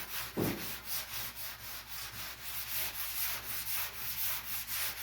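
A sanding block rubs over primer on the front clip of a 1951 Chevrolet in steady back-and-forth strokes, a close, even, rhythmic rasp that comes in regular pulses.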